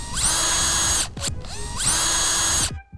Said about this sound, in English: you can now use your 11mm drill bit and make all the holes bigger